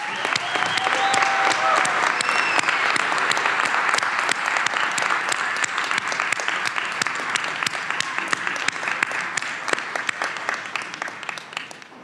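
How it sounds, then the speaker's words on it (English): Large commencement crowd applauds graduates as they walk to have their names read, a loud sustained wash of clapping lasting the whole stretch, with faint voices mixed underneath. "let's give a round of applause to all our graduates"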